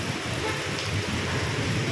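Heavy rain pours steadily in a dense, unbroken roar, filling the whole moment with no pauses or voices.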